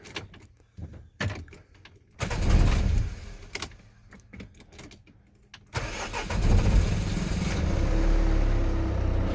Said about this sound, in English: Okay, so I started already the first time. See how it cranks now.